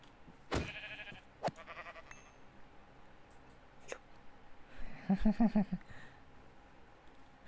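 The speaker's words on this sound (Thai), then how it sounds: "แกะมองหน้า" A Minecraft sheep bleats in a short wavering burst near the end, clear and fairly close, after a few scattered clicks and thuds in an otherwise quiet snowy scene.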